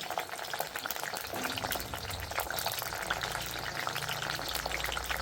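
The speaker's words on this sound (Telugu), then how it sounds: "చూడండి ఆయిల్ బాగా హీట్ ఎక్కింది. కట్ చేసి పెట్టిన బెండకాయలు వేసుకుంటున్నామండి." Cut okra frying in well-heated oil, a dense, continuous crackling sizzle with small pops, close and steady throughout.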